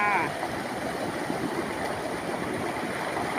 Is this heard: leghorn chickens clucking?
no